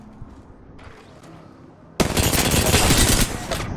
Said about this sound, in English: I literally put so many bullets into this Gibby just to not kill him